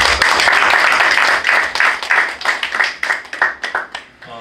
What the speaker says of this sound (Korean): 우리 박사님을 위해서 한번 박수 한번